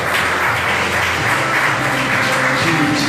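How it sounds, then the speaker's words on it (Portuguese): A church congregation applauds continuously, many hands clapping in a dense, loud wash that holds steady from start to finish, with a faint tonal hum rising near the end. "Você pode aplaudir o Senhor?"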